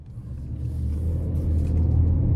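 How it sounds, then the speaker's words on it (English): A 2027 GMC Terrain Elevation FWD SUV with an 8-speed transmission drives on the road, heard from inside the cabin as a steady low engine and road rumble that slowly grows louder. "let's go ahead and take this 2027 GMC Terrain Elevation out on the road for a test drive"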